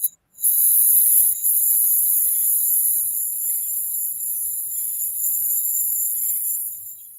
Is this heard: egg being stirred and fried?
no